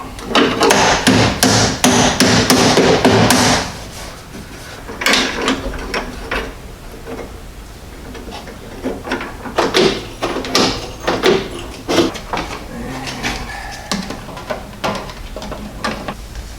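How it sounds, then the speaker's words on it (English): Metallic clanks, clicks and rattles as a car door lock mechanism on a Mazda RX7 is pulled apart, a dense burst of loud scraping at first, then scattered sharp knocks and taps. "So first thing we'll do, we'll pull the lock mechanism apart."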